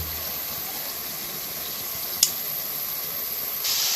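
Beef sizzles as it braises in a pan, a steady close hiss with a single sharp clink near the middle and a slightly brighter sizzle toward the end.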